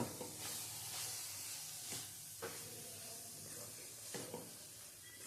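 Radish curry being stirred in a pan, a soft steady sizzle and hiss of frying with occasional scraping strokes of a spoon at a close distance, no voices.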